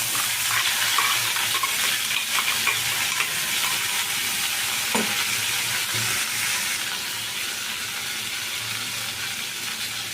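Onions, ginger, green chillies, garlic, cumin and tomato paste fry in oil in a kadai, a steady close sizzle with occasional stirring scrapes throughout.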